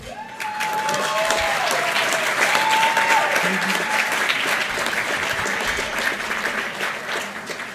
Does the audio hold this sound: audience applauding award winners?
yes